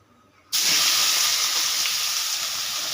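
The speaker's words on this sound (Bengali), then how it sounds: "এবারে আমি ওই তেলের মধ্যে পেঁয়াজ দিয়ে দেব" Onions hit hot oil left over from frying fish and break into a loud, steady sizzle that starts abruptly and holds, close up, with no talking.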